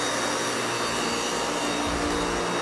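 A vacuum cleaner drones loud and close with a steady, high whine, its low rumble shifting slightly as it pushes across a rug.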